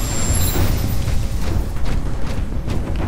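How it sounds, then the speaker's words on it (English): A Titan's 40mm cannon fires in the Titanfall video game: heavy, booming low thuds repeat over a constant rumbling battle background, loud and close. "So I'm in my Titan right now. I'm using the 40mm cannon."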